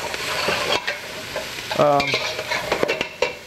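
Garlic sizzling and frying in a pan for vegetarian chowder, stirred with a utensil that scrapes and clinks against the metal in short bursts, close up and fairly quiet.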